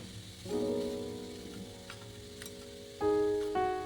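Mango pieces frying and being stirred in a pan for a homemade village-style sweet-sour mango and jaggery dish, a steady sizzle with brief stirring scrapes, loudest near the end.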